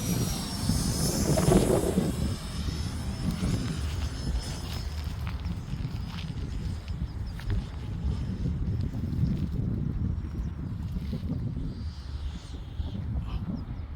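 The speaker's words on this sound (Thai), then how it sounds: "บินดีครับลำนี้ F15" A large-scale F-15 model jet with a 90mm ducted fan flies overhead, a steady loud whooshing turbine roar that swells early and then holds on as it passes at a distance outdoors.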